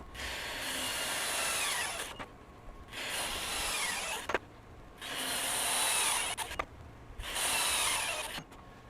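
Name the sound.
Milwaukee M18 FUEL high torque impact wrench tightening nuts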